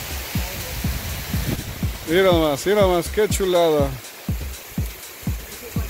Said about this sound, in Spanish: ¡Qué lluvia!